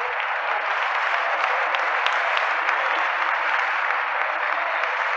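A church congregation applauds in a steady, dense wash of clapping that holds at an even level for the whole stretch, sounding slightly muffled and band-limited, with no voices on top.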